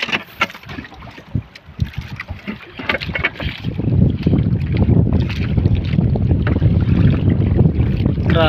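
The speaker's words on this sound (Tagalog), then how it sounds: "Grabing hangin mga idol." Strong wind on a fishing trip buffets the microphone in heavy gusts, a rumbling roar that builds and stays loud through the second half, with scattered knocks early on.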